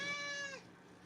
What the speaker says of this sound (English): she's a very talkative cat